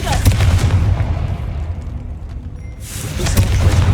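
A Confringo fire spell bursts in Hogwarts Legacy, setting off heavy booming blasts with a deep rumbling tail and a second loud burst near the end, close and forceful.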